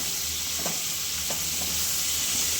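Tomatoes frying in a pan with capsicum for a chutney, a steady, broadband sizzle with soft stirring scrapes now and then, close up and without talk.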